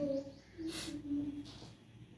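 Birds call with low, drawn-out cooing notes against a soft outdoor background, a couple of clear calls in a short stretch.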